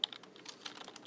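Rapid, uneven typing on a computer keyboard, with light close-up key clicks in quick succession, fairly quiet and with no voice over it.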